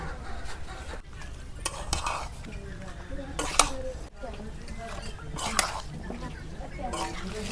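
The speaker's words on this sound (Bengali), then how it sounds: "আমি খুন্তি নিছি খুন্তি দিয়ে ময় মশলা মাহাই নিতেছি" A metal spatula stirs and scrapes desi chicken coated in chili powder, homemade spices and mustard oil in a kadai over a flame, producing irregular scraping strokes with a light sizzle beneath soft, hushed speech.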